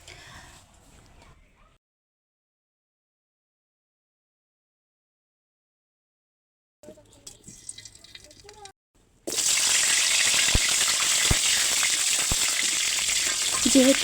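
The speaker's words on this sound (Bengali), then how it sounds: "20 মিনিট পরে আমি কড়াইতে তেল দিয়ে 2টো তেজপাতা, গোটা গোটা পেঁয়াজ দিয়ে একটু লাল লাল করে ভাজবো" Onions and two bay leaves frying in oil in a wok, a loud steady sizzle that starts after a few seconds of near-silence and scattered kitchen clatter, with brief stirring knocks over the hiss.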